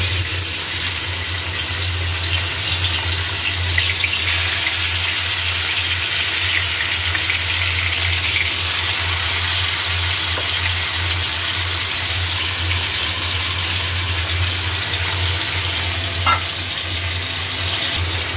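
Marinated small chicken pieces frying in hot oil in a wok over medium heat, a loud continuous close sizzle with faint stirring and scraping throughout, no talk.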